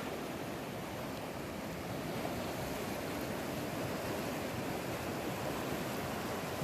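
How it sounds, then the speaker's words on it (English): A river in the Colorado outdoors near Telluride, flowing with a steady, broad rushing wash that stays constant throughout, fairly close and uninterrupted, with no voices. "I'm going to say goodbye to the river."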